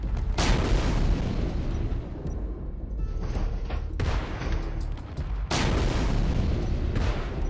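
Heavy gunfire in the Space Engineers video game, a loud sustained barrage of booming shots and impacts from a still-operational turret striking the player, with brief lulls between dense bursts.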